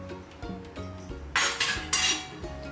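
Spoon stirring sugar into a drink in a glass, clinking and scraping against the sides in a few quick strokes, with brighter rattling bursts toward the end, close and clear, no talking.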